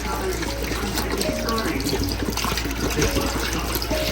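Tap water runs into a container for cleaning chicken, a steady splashing rush with bubbling, close and continuous, with faint background noises mixed in.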